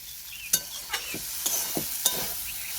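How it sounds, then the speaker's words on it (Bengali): Vegetable roll filling frying in a pan is stirred with a utensil, producing several sharp scraping clacks over a steady soft sizzle, close and without talk. "আর কিছুক্ষণ নাড়াচাড়া করে নেব, তারপরে নামাবো।"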